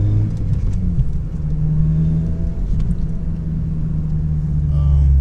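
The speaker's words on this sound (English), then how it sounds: "the exhaust is kind of louder because it's cold" Honda Civic Si with an aftermarket exhaust, already warmed up on a cold winter day: a low, steady engine and exhaust drone heard close, with a slight rise in revs near the end and no talk.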